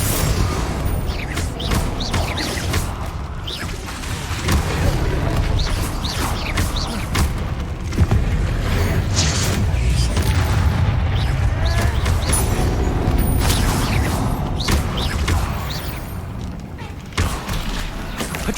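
A Bombarda blasting spell in the Hogwarts Legacy video game goes off amid a dense, continuous wash of booming impacts and crashing spell effects, loud and busy for the whole stretch with no clear gaps.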